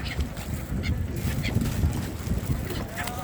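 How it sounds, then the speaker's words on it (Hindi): A flock of migratory birds calls beside the Ganges river, steady honking and chattering under wind noise, with people talking nearby. "बहुत आनंद आ रहा है इन पक्षियों को। ये ऑस्ट्रेलियन पक्षी हैं"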